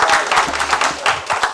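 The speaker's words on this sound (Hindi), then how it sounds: "तो सबसे पहले तो आपके लिए एक बार जोरदार ताली बजाइए।" An audience at a literary society's honoring ceremony breaks into loud, sustained applause, many hands clapping together close by for a moment.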